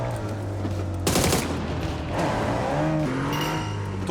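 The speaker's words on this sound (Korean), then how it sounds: "포르쉐 와 자동차 소리 시원하긴 하다" A Porsche engine in a video game revs close and loud, its pitch climbing through gear changes. Sharp bursts of game gunfire and effects cut across the engine.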